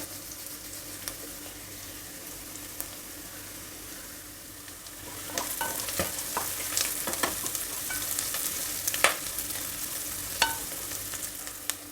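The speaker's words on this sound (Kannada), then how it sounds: "ಈರುಳ್ಳಿ ಸಾಕಷ್ಟು ಫ್ರೈ ಆಗಿದೆ ಈರುಳ್ಳಿ ಬಟಾಣಿ ಎರಡು ಚೆನ್ನಾಗಿ ಬೆಂದಿದೆ ಹಾಗೇನೆ ಎಣ್ಣೆನಲ್ಲಿ ಹೊರೆಯುವಾಗಲೇ" Onions and peas frying in oil with crushed kasuri methi, a soft sizzle that swells louder midway, punctuated by scraping stirs of a spoon against the pan.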